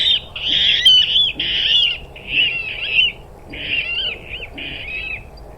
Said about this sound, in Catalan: sento el rascló, un ocell que és fàcil de sentir i difícil de veure